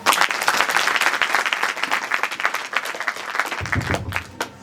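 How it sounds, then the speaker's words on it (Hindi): Loud, dense applause from a large audience at a business workshop celebration, continuous clapping for over four seconds that thins toward the end as a voice cuts in. "एक बार जोरदार ताली।"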